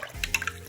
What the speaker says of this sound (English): I kind of like swish them around a little bit, and I put them in this water here,